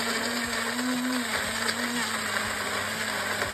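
A blender runs loud and steady, whirring nonstop as it purees pineapple, orange, ginger and two carrots into a smoothie, and the tone dips briefly partway through.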